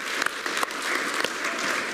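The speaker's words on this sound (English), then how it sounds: "Let's give Ben a big round of applause." A church congregation at an Easter Sunday service breaks into warm, dense applause, many hands clapping together in a steady, full wash that stays loud throughout.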